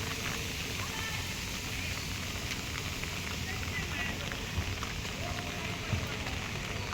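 Heavy rain pours down steadily near a running fountain where children play football, making a dense, even hiss that stays loud and constant throughout with no clear gaps.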